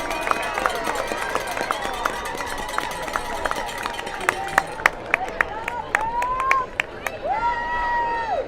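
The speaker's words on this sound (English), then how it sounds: "let's have a standing round of applause for the Patriot" Crowd in the stands at a Wayne Hills Patriots high school football game against Northern Highlands applauds the Patriot cheerleaders, with scattered claps and crowd noise under whistles and a marching band's brass fanfares.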